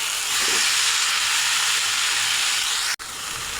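Boiled banana flower tipped into a sizzling spice paste in a pan sets off a loud, dense hiss that holds steady, then cuts off abruptly before resuming.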